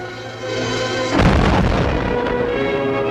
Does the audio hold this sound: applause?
no